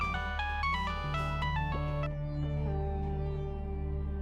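A phone rings for an incoming call with a bright electronic melody that steps through a rising and falling tune, then settles into sustained lower tones, heard clearly and alone.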